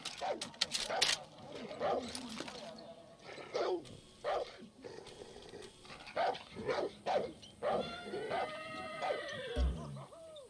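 Dog in Far Cry 6 barking repeatedly in an irregular string of yaps and whines, fairly close, with game ambience and a low thud near the end.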